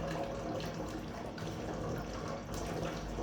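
Watery fluid pours out of a Yamaha R6 motorcycle engine being rebuilt, a steady trickling and splashing stream heard up close without a break.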